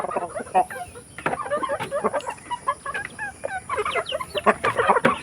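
A flock of chickens clucks busily at feeding time, many short overlapping clucks and chirps in an uneven rhythm close by, with scattered louder calls and quick pecking taps.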